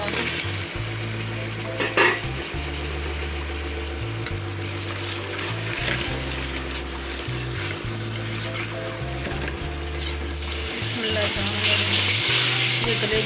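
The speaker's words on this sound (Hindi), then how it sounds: "अब मैं शामिल कर रही हूँ आलू" Potatoes are stirred into chicken liver frying in a pan, giving a steady, fairly loud sizzle with intermittent stirring scrapes over a droning background hum.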